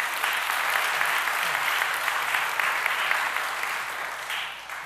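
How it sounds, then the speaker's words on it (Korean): A church congregation applauding in a large fan-shaped worship hall, sustained loud clapping from many hands that carries evenly throughout and tapers slightly at the end. "박수 한번"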